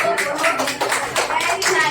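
Students in a classroom clap together for classmates, a short burst of steady, close clapping that overlaps with faint voices.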